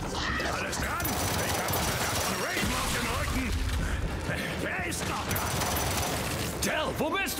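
Weapon reloading in Gears 5, with mechanical clicks and ratcheting clatter set inside dense gunfire and battle noise that run throughout, with voices talking over the action.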